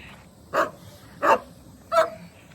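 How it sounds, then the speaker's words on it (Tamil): A single dog barks three times at an even pace, each sharp bark clear and moderately close over a quiet background with no talk. "அங்கே ஒரு நாய்"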